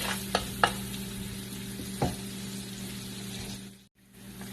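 Garlic and shrimp sizzle and are stirred in a pan for a Filipino fresh lumpia filling. The frying hiss is steady, with a few sharp spatula scrapes, and it cuts out briefly near the end.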